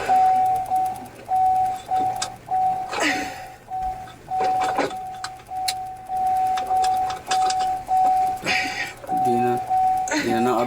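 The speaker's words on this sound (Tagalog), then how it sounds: "Kaninong kotse tumutunog?" A car alarm sounds in a parking area with a steady run of evenly spaced, clear electronic beeps, while people talk nearby and occasional clatters and knocks come through.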